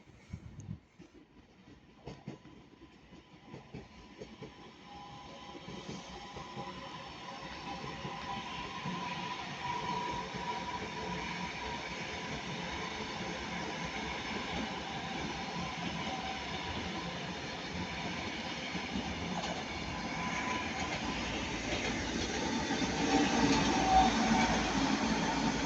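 A Class 331 electric train, unit 331021 leading, passes at Ardwick on a Manchester Airport to Blackpool North service. Its steady rolling roar and rail rumble build from near quiet and swell louder toward the end, with no voices.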